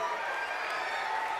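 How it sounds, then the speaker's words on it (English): Audience applause and cheering for a fourth grade choir at a middle school spring music concert, a steady dense wash of clapping from a crowd in a hall, lasting the full moment without letup. "Round of applause for our fourth grade choir"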